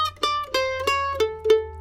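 A mandolin picks a short lick of about six notes in alternating up and down strokes, bright and close, the last notes ringing out, with a faint low hum underneath.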